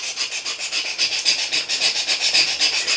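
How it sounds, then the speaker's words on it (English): A metal file is drawn by hand along a knife blade to sharpen its bevel, producing close, loud rasping strokes in a brisk, steady back-and-forth rhythm, several per second, with no talking. "I think we can probably use a file in this case and achieve the"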